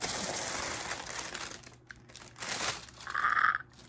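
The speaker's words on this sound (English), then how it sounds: "this tissue paper always makes me so happy every time I order something from the Disney store" Tissue paper crinkles and rustles close up while a Disney Parks Tower of Terror Loungefly backpack is unwrapped, in irregular bursts with short quiet gaps and a brighter crackle near the end.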